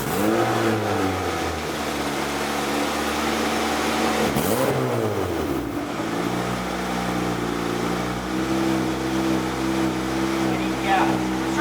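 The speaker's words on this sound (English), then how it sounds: "I'm gonna give it a little gas." Turbocharged 2ZZ-GE engine in a Toyota MR2 rises and falls in pitch as the throttle is blipped, a loud, close mechanical drone with a dip and swell near the middle, with a person talking over it.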